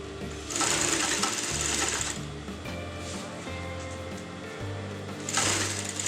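A sewing machine runs a seam attaching a bias strip to a kameez, its close mechanical whir holding steady with rhythmic stitching chatter, surging louder at the start and again near the end.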